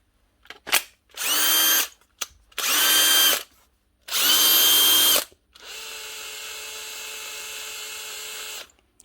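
A power drill with a wobbling chuck whirs in three short bursts, then runs steadily at a lower pitch for several seconds, close and loud.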